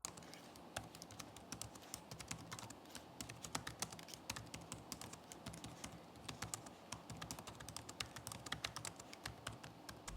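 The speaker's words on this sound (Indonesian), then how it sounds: "berikut ini adalah contoh suara feedback dari keyboard Acer Swift 5 Aerospace" Fingers type on the keyboard of an Acer Swift 5 Aerospace SF514-56T laptop, giving a continuous run of soft, close, rapid key clicks with no talking.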